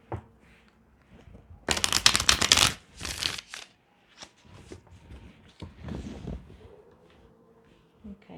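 Cards of a tarot deck are shuffled close by, a loud burst of riffling followed by shorter softer flicks and rustles of the cards being handled.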